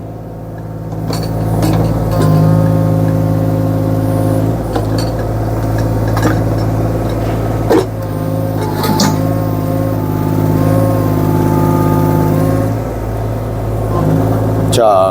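Kobelco 1.2-ton mini excavator driving on its tracks, a steady loud diesel drone with mechanical clatter, while someone talks over it.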